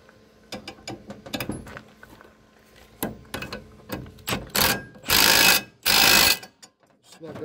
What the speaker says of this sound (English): Here's a 3/4 inch wrench and socket.